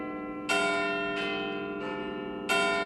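A clock tower bell chimes four times in steady succession, each deep ringing strike overlapping the fading hum of the one before.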